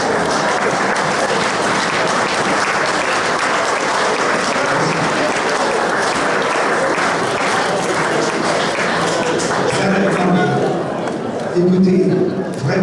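Audience at a Paris 16th arrondissement town hall anniversary event applauds the president, a long steady burst of dense clapping with faint chatter, fading slightly at the end.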